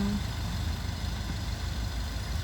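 A car engine idles in neutral with the clutch released, a steady low rumble holding even throughout, nearby, no talking.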